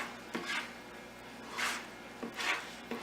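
A spoon scraping and stirring flour, salt and pepper into a melted-butter mixture for a chicken and wild rice casserole, heard as a few soft, rhythmic rasping strokes against the pot with quiet gaps between them.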